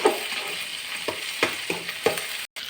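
Onions and ripe tomatoes sautéing in a pan for mutton kuzhambu: a steady close sizzle broken by several sharp spatula scrapes and taps on the pan, with no voices.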